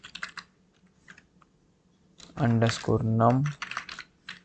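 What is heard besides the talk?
typing on a computer keyboard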